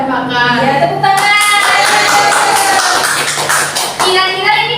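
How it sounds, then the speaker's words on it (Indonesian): Elementary school children in a fifth-grade classroom clap their hands together in a dense, steady burst of clapping that fills the room, with a few young voices mixed faintly underneath. "Ya, tepuk tangan."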